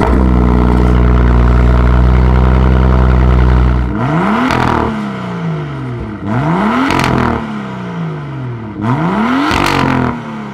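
BMW M3 F80 fitted with an Akrapovic exhaust with titanium and carbon fiber tips: a steady engine drone, then three sharp, loud revs that climb and fall back, close and alone with no talk.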